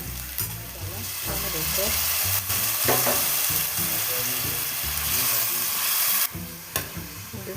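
Onions sizzle steadily in a hot pan while being cooked for Mangalore-style chicken sukka, with occasional scraping stir clatter and a brief spoken word over the frying.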